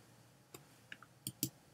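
Faint computer mouse clicks in a quiet room, a few short, sharp ticks spread unevenly, with the last two close together.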